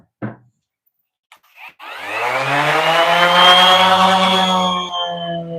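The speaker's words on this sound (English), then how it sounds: "I'm gonna use the sander here." An electric sander starts up in a woodworking shop after a couple of brief knocks, then runs loud and close with a steady whine that gradually rises in pitch and dips near the end.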